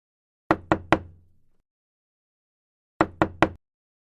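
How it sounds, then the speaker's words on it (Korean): Knuckles knock on a door in two crisp bursts of three raps each, separated by a pause of about two seconds, loud and close against silence. "문을 두드리는 소리."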